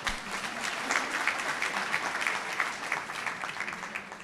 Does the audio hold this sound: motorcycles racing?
no